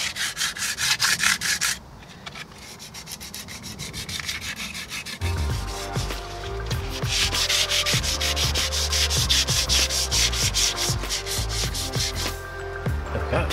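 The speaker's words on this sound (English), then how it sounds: "so I'm just going to sand it all dead smooth and then clean everything" Sandpaper rubbing steadily over dried paint on a narrowboat, a continuous scratchy rasp in repeated strokes, close and fairly loud, briefly pausing then resuming with a heavier rhythmic scrubbing.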